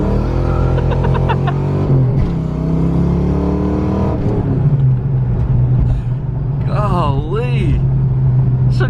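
Turbocharged stock pickup truck rated at 225 horsepower accelerating hard, a loud steady engine drone with rising and falling pitch sweeps, voices talking over it near the end.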